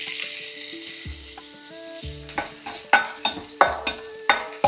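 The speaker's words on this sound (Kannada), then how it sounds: "ಈಗ ಪ್ಯಾನ್ ಕಾದಾದಮೇಲೆ ಫಸ್ಟ್ ಆನಿಯನ್ಸ್ನ ಹಾಕ್ಕೊಳ್ಳಿ" Onions dropped into a hot pan for veg noodles, frying under a soft background melody, with rhythmic scraping stirs growing louder and regular toward the end.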